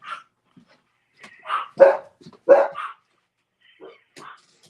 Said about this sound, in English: I have to go yell at the dogs. They're fighting with the cats.